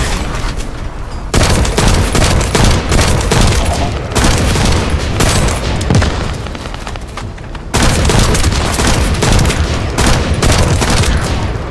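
Heavy gunfire in The First Descendant video game, loud dense bursts of shots and booms in long stretches separated by brief gaps, with no voices.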